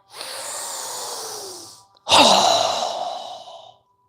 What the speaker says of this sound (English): inhale. Strong exhale